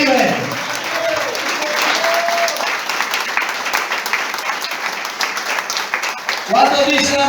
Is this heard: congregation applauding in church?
yes